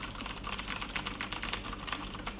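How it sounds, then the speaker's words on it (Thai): Fast typing on a full-size GAMDIAS Hermes RGB mechanical keyboard with Kailh Blue switches, close, crisp clicky keystrokes in a quick uneven patter, fairly quiet and heard alone. "ตัวนี้เนี่ยเป็น Mechanical Keyboard แบบฟูลเลยนะฮะทั้ง แผงแล้วก็ใช้สวิตช์ของ Kale Blue นะครับ"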